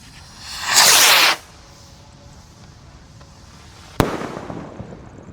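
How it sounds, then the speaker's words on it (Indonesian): A blue jumbo Gold Dragon firework rocket launches outdoors with a loud roaring whoosh lasting about half a second. A sharp crack follows a few seconds later, trailing off into crackling. "Gold Dragon Rocket warna biru siap kita nyalakan guys"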